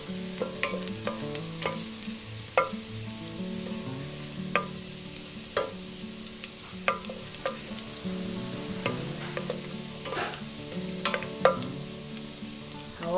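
Meat browns in a frying pan for Peruvian beef empanadas, giving a steady close sizzle broken by frequent scraping and clacking stirs of the spoon, with no voices.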